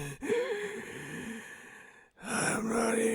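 Ghoulish zombie breathing from a 1974 horror film: raspy, drawn-out gasps and sighs, close and eerie, broken by a brief pause before a harsher breath swells back in.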